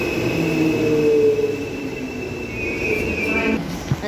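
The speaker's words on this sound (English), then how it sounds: "And the express High Wycombe train just left platform 9." An express train to High Wycombe pulls away from a station platform, a steady low rumble of rail noise with a faint tonal whine that fades slightly, and a brief clunk near the end.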